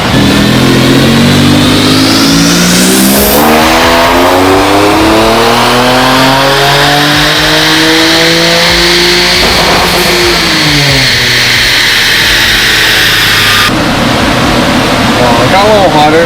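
An Infiniti Q50 with a VR30 twin-turbo engine revs hard on a dyno, a loud, sustained run whose pitch climbs steadily through the gears before dropping off near the end, with a voice heard underneath.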